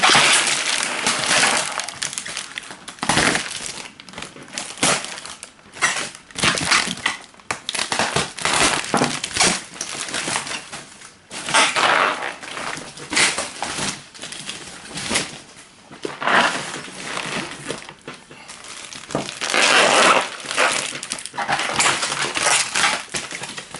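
Shrill crinkling and crunching of packaging while unboxing a large parcel, with repeated bursts of rustling and scraping across the whole stretch, fairly close and loud, with no talking.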